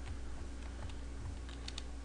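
Computer keyboard keys pressed for shortcuts, a quick series of light clicking taps over a low steady hum, close and fairly quiet.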